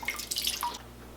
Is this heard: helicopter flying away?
no